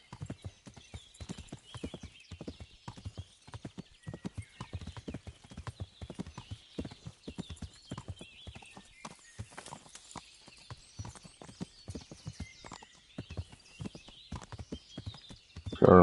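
Horse hooves clip-clop steadily through the medieval game Kingdom Come Deliverance, a continuous walking rhythm of hoofbeats with occasional whinnies.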